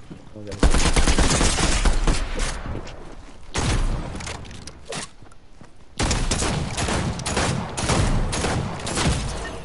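Rapid bursts of gunfire in Fortnite, loud and close, crackling in dense volleys with short pauses between strings of shots while a voice talks over them.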